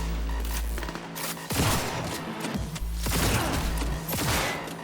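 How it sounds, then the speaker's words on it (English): Rapid gunfire in the video game Cyberpunk 2077, loud bursts of shots with booming low-end thumps, rattling on continuously with brief gaps between volleys. "I'm just going to start shooting people."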